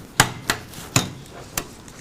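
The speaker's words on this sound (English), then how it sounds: "Pat, do you want to help me crack some eggs?" Eggs cracked one after another into a bowl for a recipe needing four eggs, giving four sharp, separate taps spaced irregularly, close up and fairly loud in a quiet kitchen.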